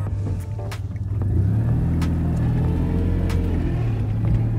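A Citroën 2CV6 Spécial, restarted after four years sitting outdoors, accelerates with a loud, close, steady engine rumble whose low buzzing pitch climbs slightly as the revs build, with no talking.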